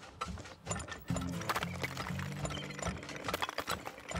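Horses clip-clopping as they pull carriages in the oil-drilling video game Turmoil, quick uneven hoof taps and a faint whinny over a low droning game tone, fairly close and steady throughout.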